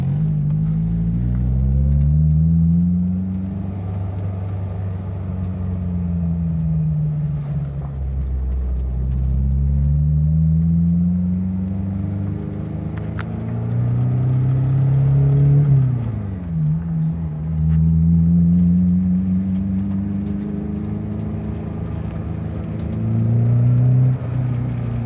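A car engine rumbles from inside the vehicle while driving, its pitch rising and falling through repeated gear shifts, steady and fairly loud with no talking.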